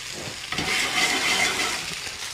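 Steaks frying in a hot pan as they are turned, giving a steady broad hiss of sizzling fat with a small jump in sizzle when a steak is flipped, close and fairly loud, no voices.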